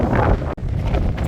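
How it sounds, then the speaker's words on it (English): Strong gusting wind buffets the microphone on an exposed 4,052-foot mountain summit near Mizpah base camp, roaring loud and continuous with a brief dropout midway, no voices. "It's pretty windy, by the way."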